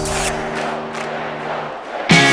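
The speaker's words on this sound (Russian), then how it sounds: "50 тысяч фанатов скандируют мое имя" A large football stadium crowd roars and chants, a dense continuous wall of voices with a sustained held chant tone, then a louder surge of cheering at the end.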